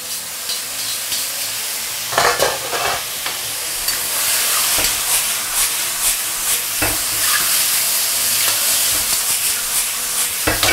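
Asparagus stir-fries in a hot oiled wok, a continuous loud sizzle broken by several sharp scraping strokes of a spatula tossing the spears.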